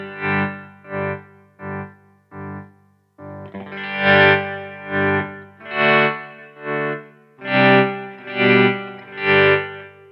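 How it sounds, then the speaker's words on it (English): Electric guitar through a slow tremolo effect pedal, the volume pulsing smoothly in soft swells rather than hard chops: four short throbbing chords, then broader, fuller pulses that fade in and out at a steady, unhurried rate. "So that's a much kind of slow, smoother tremolo."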